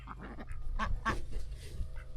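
Ducks or other farm birds quack and honk at feeding time in a pasture, several calls close by over a low background rumble, with handling noises mixed in.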